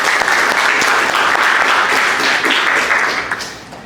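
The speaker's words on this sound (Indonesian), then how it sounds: "Oke, selain beri aplaus" Applause from a classroom audience at a religious education teaching assessment, steady dense clapping filling the whole stretch, loud and close, thinning out near the end.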